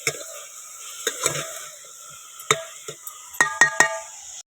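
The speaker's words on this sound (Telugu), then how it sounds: "కొద్దిగా కరివేపాకు వేసుకుందామండి అలాగే ఉప్పు కూడా వేసుకుందాము బాగా తిప్పేసుకుందాము" Spoon scraping and clinking in a pan while cauliflower and moong dal curry with curry leaves and salt is stirred, a quiet frying sizzle underneath and sharp metallic taps coming in irregular bursts, several clustered near the end.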